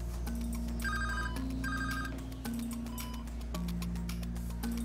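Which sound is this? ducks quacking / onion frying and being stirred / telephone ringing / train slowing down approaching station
telephone ringing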